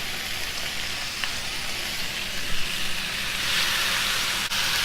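Bacon strips sizzle on a makeshift skillet with a steady, close hiss and crackle that runs the whole time, with no talking.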